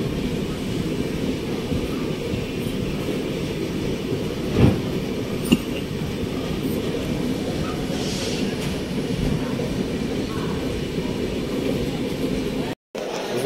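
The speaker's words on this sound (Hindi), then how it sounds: "हमारी ट्रेन अभी मनमाड जंक्शन पहुंची है और यहीं पर खड़ी है" An express train from CSMT Mumbai to Howrah pulls into Manmad Junction. From on board, a constant low rumble with occasional faint clanks and clicks continues, with possible murmuring voices in the carriage.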